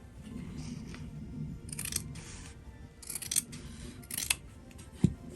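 Scissors cutting fabric for a cupcake pin cushion, several crisp snipping strokes at close range spread over a few seconds against a quiet room.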